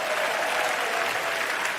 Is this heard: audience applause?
yes